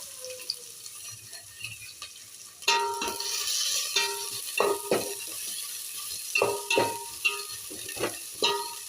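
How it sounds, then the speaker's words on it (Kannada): Onions and green chillies are stirred in a hot pan of mustard-cumin tempering, giving a soft sizzle broken by repeated scraping and clacking of a spoon against the pan in irregular bursts. "ಈಗ ಈರುಳ್ಳಿ ಮೆಣಸಿನ್ಕಾಯಿ 2 ಒಂದೇ ಸರಿ ಹಾಕ್ಬಿಡ್ತೀನಿ ರೀ."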